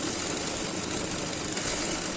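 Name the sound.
sewing machine stitching the side seams of a nighty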